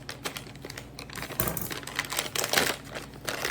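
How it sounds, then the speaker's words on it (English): A knife chops scallions on a cutting board for a Jamaican curry goat, giving quiet, quick, uneven taps and crisp crunches close by. "Cut up some scallions."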